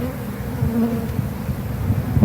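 A defensive honeybee colony drones in a steady close buzz during a hive inspection as the bees are shaken down, a low continuous hum with no speech.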